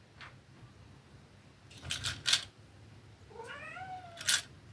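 A house cat meows several times indoors, a couple of short calls followed by a longer rising and falling meow near the end, mixed with sharp crinkling and snipping from paper craft work close by.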